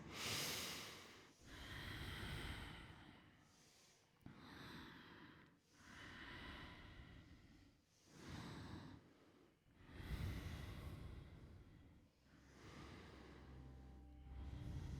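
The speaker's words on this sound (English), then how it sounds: "And you're listening to your deep breath through the nose." Deep breathing through the nose during a Kundalini yoga practice, with slow, regular, close breaths alternating inhale and exhale about every two seconds, breathy and airy with no speech.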